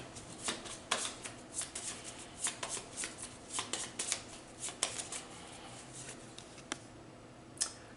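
A deck of cards shuffled during a tabletop board game session, with repeated crisp riffling bursts and soft card slaps spread irregularly, close up, with no talking.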